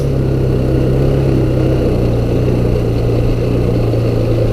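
A TaoTao 200D ATV engine runs steadily in first gear, a loud, close, continuous low drone without pauses or voices.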